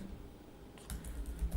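Computer keyboard typing during a Python coding session, a few close soft key clicks clustered in the second half of a brief quiet moment.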